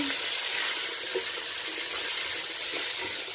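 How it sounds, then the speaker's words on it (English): Peppers and other vegetables for jambalaya fry with a steady, even sizzle over a broad hiss, with faint stirring scrapes near the pan and no talk. "peppers and fry all your vegetables. Okay, so you give it a stir."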